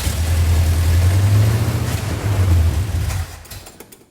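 A hot rod car engine under repair catches and runs, a loud close rumbling idle with a deep low drone that surges once, then cuts out and sputters to a stop with a few faint clicks.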